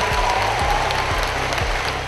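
Audience at an Islamabad youth laptop scheme ceremony giving a standing ovation, a steady wash of applause with some louder individual claps standing out, continuing throughout.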